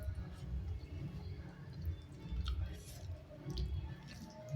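Close, wet chewing of egg yolk in egg curry, soft squishy mouth sounds repeating in an uneven rhythm under a low background hum.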